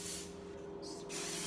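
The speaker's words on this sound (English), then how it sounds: "spray it really good." Hairspray is sprayed onto double French braided hair in a continuous close hiss, pausing briefly before resuming.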